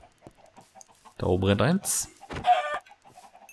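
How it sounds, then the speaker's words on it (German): Blocky chickens in Minecraft on Nintendo Switch give a burst of clucking and squawking cries in the middle, with a louder call after, over light game sounds and someone talking. "So, wo sind die anderen Hühner hingerannt?"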